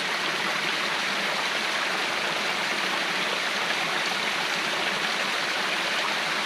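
A small stream on a coastal jungle trail flows in a steady, close, unbroken rush and babble of water, with no voices and no change in level throughout.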